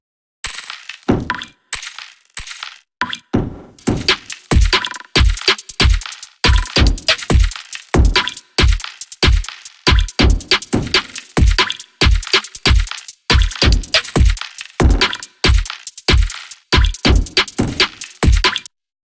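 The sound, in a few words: glitchy drums processed with FabFilter Saturn random LFO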